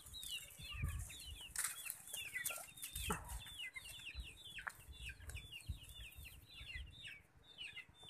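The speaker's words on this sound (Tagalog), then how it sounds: "Marami din siyang mga alagang manok." Several chickens cluck and chatter continuously at a moderate distance on a vegetable farm, with occasional wing flaps and scuffs among them.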